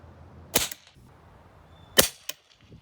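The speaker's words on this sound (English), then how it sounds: "I'm going to go ahead and test fire it to see how it's going to do." An 8x57 JRS rifle test-fired to fireform a case: two sharp, loud shots about a second and a half apart, each with a short tail, plus a smaller crack just after the second.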